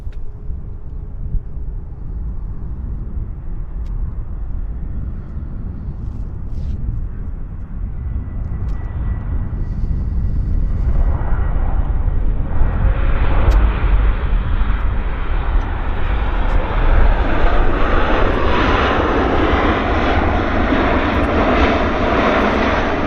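A Flair Airlines passenger jet arriving from Las Vegas lands at Vancouver Airport, its steady engine roar swelling louder and closer through the second half and ending in a broad, sustained rumble, with no talking.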